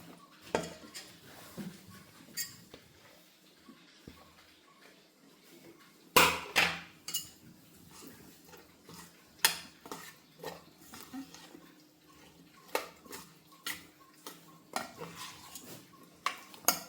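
Boiled cornflour mixture being mixed in a bowl, with repeated clinks and scrapes of a spoon against the dish, irregular taps and knocks in a quiet kitchen.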